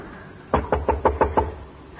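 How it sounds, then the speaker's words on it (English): Six quick, evenly spaced knocks rap on a door, close and crisp, followed by a brief pause, in a 1956 radio drama scene. "Knock on the door."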